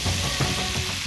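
Food sizzles steadily in a hot pan in a busy celebrity cooking-competition kitchen, with a dense, even frying hiss throughout and a soft knock or stir partway through.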